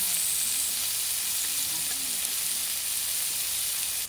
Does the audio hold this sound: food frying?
yes